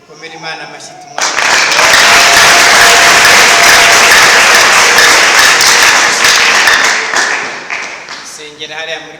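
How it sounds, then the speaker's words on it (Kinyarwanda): A church congregation breaks into loud, dense applause that swells after a brief spoken moment, holds for several seconds, then fades as a voice returns. "Komera Imana amashyi tumwaka."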